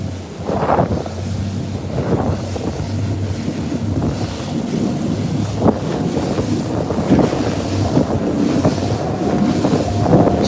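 A fishing boat thumps over big waves from a yacht's wake, with repeated hull slaps and rushing water under heavy, steady wind noise on the microphone and no talking.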